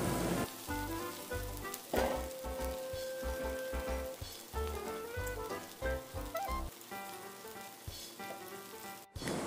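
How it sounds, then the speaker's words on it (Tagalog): Pancit canton noodles with cabbage sizzle and crackle in a hot pan as they are stirred, a bright continuous frying hiss broken by clattering scrapes of the utensil, close and alone without talk. "I-continue pa nating haluin ito for last 1 to 2 minutes hanggang maluto na ng tuluyan yung repolyo natin."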